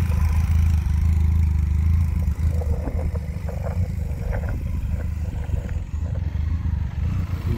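A Benelli TRK 502 motorcycle engine drones steadily at close range while the bike is ridden through tight turns, with a constant low rumble and light clattering throughout and no talk.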